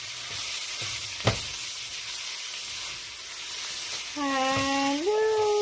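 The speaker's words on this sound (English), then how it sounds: "I'm cooking shrimp" Shrimp and tofu fry in a pan with a loud, continuous hissing sizzle close by. A single sharp clink stands out early, and a high tone rises over the frying near the end.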